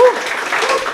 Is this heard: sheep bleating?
no